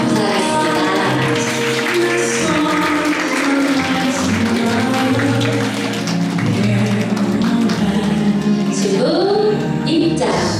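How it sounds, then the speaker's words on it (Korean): Warm applause welcomes the bride's entrance at a Korean wedding, sustained clapping from the guests running loud and continuous under music and an announcer's voice. "따뜻한 박수로 이 신부님 입장을 환영해 주시면 감사하겠습니다."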